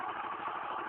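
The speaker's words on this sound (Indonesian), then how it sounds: "Setelah itu motor kita engkol," A kick-started motorcycle engine runs steadily in a brief, even idle, loud and close with a constant dense mechanical drone and no voices.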